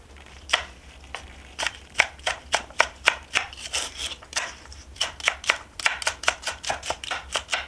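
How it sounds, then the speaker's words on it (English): A knife trims the top off a celery stalk on a cutting board, giving a steady run of sharp, close chopping taps, about two or three a second, with no talking. "I'll also just trim off the top here of the celery stalk."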